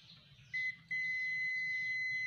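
A Zoyi ZT-102A multimeter's continuity buzzer sounds while testing a shorted diode: a short high beep, a brief pause, then a long sustained tone that continues to the end, close and clear over a faint low hum.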